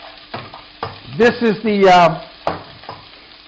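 Pad Krapow ingredients frying and being stirred in a pan, a soft sizzle broken by scraping strokes, with someone speaking briefly over the cooking.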